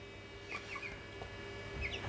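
Eight four-week-old chicks, including white mini meat-breed birds, kept indoors in a home brooder, give a few soft chirps and clucks spread over a faint, steady background hum.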